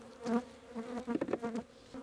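Honeybees buzzing while a hive is being split into boxes with a queen excluder, a close droning hum that swells and fades in uneven waves as bees fly past.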